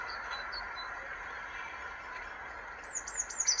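A blue tit sings in a garden, a short run of thin, high call-like notes arriving near the end over a faint background hiss, with a few soft chirps earlier.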